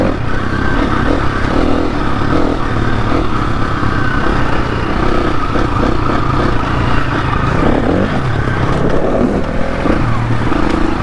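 Motorcycle ridden off-road along a muddy green lane, wheeling through puddles, its engine droning steadily and loud throughout with splashing and clatter mixed in, close to the rider.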